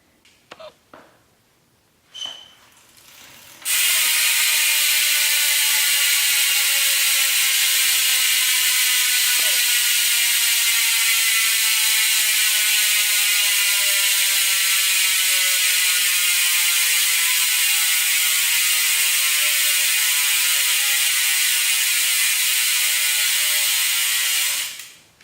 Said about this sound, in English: here's a hub sound